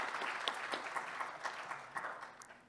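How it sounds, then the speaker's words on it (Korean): Audience applause at a district public forum on parking and local livelihood issues, a steady wash of many hands clapping for close to three seconds as a guest is introduced, with no voices over it. "큰 박수로 맞아주시기 바랍니다."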